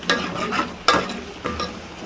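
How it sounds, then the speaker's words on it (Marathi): Spice mix for chicken roasting in a dry pan: three distinct scraping stirs over a faint, low sizzle. "मसाला भाजूया."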